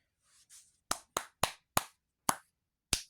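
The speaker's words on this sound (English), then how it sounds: "The shadow clapped its hands" Hands clap six times in sharp, close, isolated strikes with uneven gaps, preceded by two soft rustling whooshes, as a sound effect in a narrated story.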